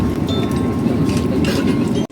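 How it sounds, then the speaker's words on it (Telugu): A Vande Bharat train cruises between Katra and Srinagar in Kashmir, heard from inside the carriage as a loud, steady low rumble with faint clinks and rattles, cutting off abruptly at the end. "ట్రైన్ అలా క్రూజ్ అవుతుంది"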